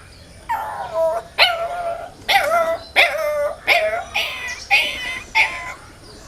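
A human voice imitates a small puppy shivering in the cold, giving about seven short whimpering yelps in an uneven rhythm, close and fairly loud.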